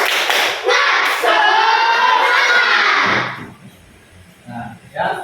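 Schoolchildren in a classroom do a rhythmic spirit clap together, loud group clapping with shouted chanting that stops abruptly, followed by a few scattered claps and thumps.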